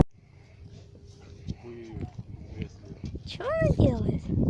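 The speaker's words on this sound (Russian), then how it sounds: "Это чья вообще собака?" A dog whimpers and yelps in a forest, rising whiny cries near the end over footsteps and rustling, with people talking throughout.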